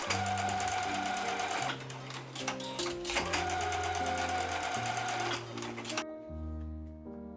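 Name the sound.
sewing machine basting handles onto denim tote bag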